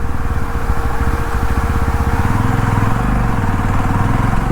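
A Yazdi Roadster motorcycle on an evening ride, its engine thrumming close and loud in a steady, even drone with a slight shift in pitch partway through, no speech.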